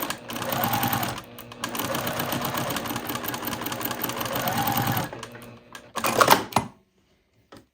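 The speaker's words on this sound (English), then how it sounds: "Sew that curved seam." A sewing machine stitches a curved quilt seam in quick, steady runs of rapid clattering, pausing briefly near one second, stopping around five seconds, then a short final burst before quiet.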